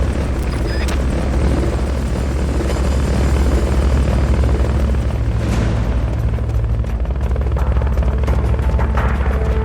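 A helicopter's rotor thumps and engine drone in Metal Gear Solid: Peace Walker fill the whole stretch, loud and steady, with a faint whoosh partway through and no talking.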